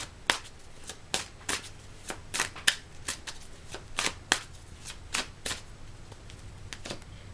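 Tarot cards from the Quester Tarot deck being shuffled and drawn, a series of crisp, separate riffling snaps and flicks arriving in irregular bursts, close and clear with no talking.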